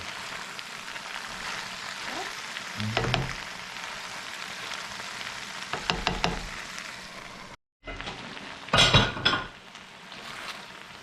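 Potatoes cooking with salt fish in a pan, a low steady sizzle broken by clinks and knocks of a utensil against the pan, with a few louder clatters near the end.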